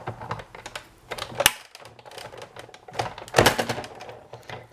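A Big Shot die-cutting machine is cranked through for a Hearth & Home Thinlits panel, giving a nearby series of clicking, rattling mechanical taps with two louder thunking bursts, and no talking.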